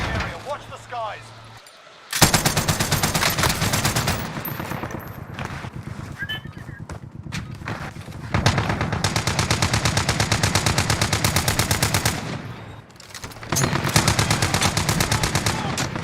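Gunfire in the Warzone video game crackles in long sustained automatic bursts, dense and loud, with a brief lull before the firing resumes, broken by short gaps; a voice is heard early.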